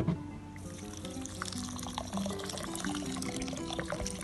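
Water poured into a bowl of raw rice while it is washed, with gurgling, trickling splashes and light sloshing heard close and fairly soft, alone with no talking.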